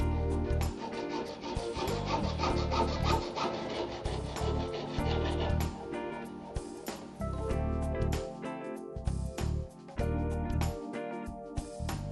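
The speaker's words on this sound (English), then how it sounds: "The cable is cut off perpendicular to the cable axis." A metal saw cutting through corrugated coaxial cable perpendicular to its axis, quick rasping back-and-forth strokes in an uneven rhythm with brief pauses, close and moderately loud, no talking.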